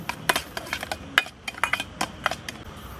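A spoon stirring sugar into warm milk cream in a bowl, giving a quick irregular series of bright clinks and scrapes against the dish, close and clear with no talking.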